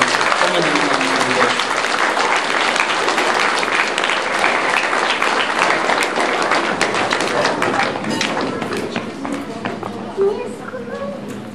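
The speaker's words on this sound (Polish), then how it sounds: "Jeszcze poproszę raz o klaski" Sustained applause from an audience at a Wielkopolska folk feast with a village housewives' cabaret and puppet theatre, dense steady clapping for several seconds that slowly thins out.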